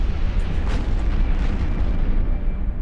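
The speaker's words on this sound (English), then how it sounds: "So many pretty explosions." Dense, continuous rumbling blasts with crackling bursts layered on top, loud and sustained without a break, a string of explosions going off in EVE Online.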